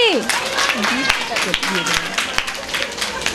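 Applause at a medal ceremony during a cultural programme, a dense patter of clapping running throughout under steady voices speaking over it.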